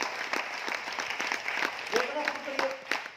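Audience applause during a sales seminar in Aurangabad, Maharashtra, moderate clapping with distinct individual claps throughout and a voice speaking over it partway through.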